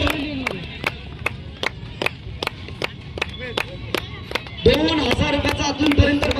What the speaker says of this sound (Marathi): जरा जोरदार टाळ्या हम लाव द्या या समीर सावंतसाठी